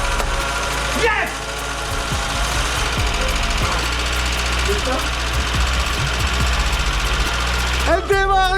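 A Volkswagen Golf cranks and catches near the start, then settles into a loud, steady, slightly knocking idle before revving up sharply at the end.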